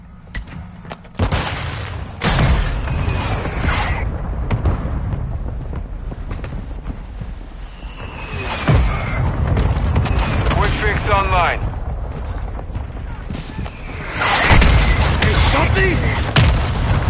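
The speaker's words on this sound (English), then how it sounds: "Mortar strike inbound." Mortar strike explosions in a video game battle: repeated heavy booms and rumbling blasts with scattered gunfire, loud and close, while voices talk over the combat.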